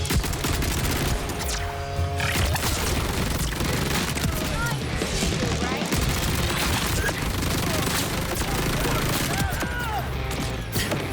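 Rapid Vladof gunfire from a fire-rate build in the Borderlands 4 video game, a dense, unbroken fusillade of shots with booms, loud and continuous throughout.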